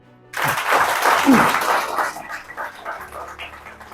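Applause from the audience at a direct selling business event, a broad wash of clapping that swells after a short pause, holds for about two seconds, then thins into scattered claps.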